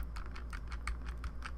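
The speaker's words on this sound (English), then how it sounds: "Use a Control-Alt-Z keyboard" Computer keyboard keys clicked rapidly and softly, around eight quick taps in a steady run, as a Control-Alt-Z undo shortcut is repeated while editing a photograph in Photoshop.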